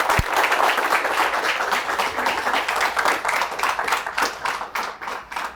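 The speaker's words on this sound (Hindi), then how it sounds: "ज़ोरदार तालियों से स्वागत करिए प्रोफेसर पुरुषोत्तम अग्रवाल का" A studio audience greets Professor Purushottam Agrawal with loud, sustained clapping that stays dense and steady before thinning slightly near the end.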